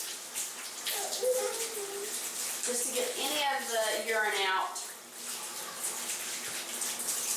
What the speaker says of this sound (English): I just turn the water on and I rinse the diaper really well